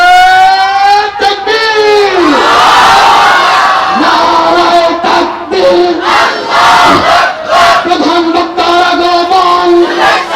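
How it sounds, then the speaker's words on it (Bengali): A large crowd at an Islamic sermon gathering chants the takbir, Allahu Akbar, in loud, repeated call-and-response waves led by a voice over the mic, with rhythmic pauses between bursts of massed voices. "উনি এখন একটা তাকবীর দেন, হুজুরের জন্য একটা তাকবীর দিয়ে দেন।"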